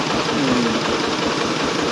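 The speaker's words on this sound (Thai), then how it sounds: "เป็นเครื่องยนต์ครับ เครื่องยนต์ ของเดิมเป็น 95 ครับอัพเป็น 155" Modified engine upgraded from 95 to 155 running at a steady idle, a dense loud rumble with faint knocking pulses and vibration, alone.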